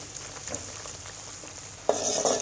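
Whole olives in an oil pickle simmer over low heat in a pan, giving a steady soft sizzle and bubbling that swells noticeably louder near the end.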